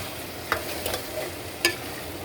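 Meat drops into hot oil with whole cumin seeds, giving a soft, quiet sizzle broken by a few sharp clicks and splatters.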